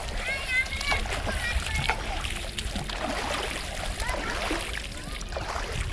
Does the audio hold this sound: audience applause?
no